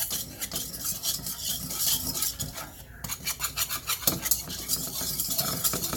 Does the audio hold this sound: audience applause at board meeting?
no